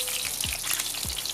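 Herring frying golden and crispy in a pan as the fish are flipped, a bright crackling sizzle throughout with two low thumping knocks from turning them, near and with no talking.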